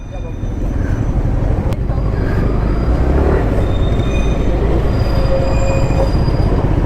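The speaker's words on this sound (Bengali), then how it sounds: "দেখো রংটংয়ের সামনে টয় ট্রেন দেখতে পেলাম" Toy train on the Darjeeling line running along the road at Rongtong in North Bengal, a steady loud rumble of wheels with faint squeals and a brief sharp click, continuous throughout.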